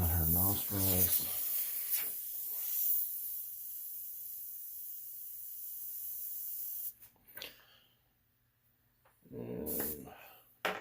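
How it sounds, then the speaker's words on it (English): An airbrush spraying paint, a close, steady hiss of air lasting several seconds, then quieter intermittent bursts, with a brief voice at the start and again near the end. "It's not spraying quite the way I want it to."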